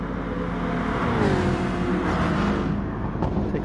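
Racing car engines in GT Sport at the Sardegna B circuit, with a Citroen and a Jaguar side by side: a loud, steady drone of several engines with rising and shifting revs close together, no talk over it.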